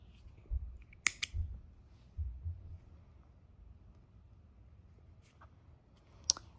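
Scissors snip crochet yarn, two quick sharp clicks close together followed by soft handling thumps, then a couple of faint later clicks in a quiet room, no talking.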